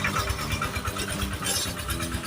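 A small walk-behind tractor engine chugs loudly and steadily close by, its low rhythmic thumping running throughout with no pauses.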